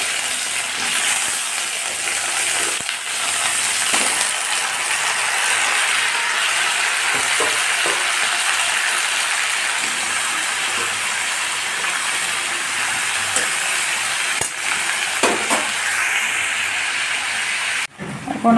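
Mixed vegetables for a vegetarian curry sizzle in a pan, a steady, close frying hiss with occasional faint clicks and crackles, and no talking.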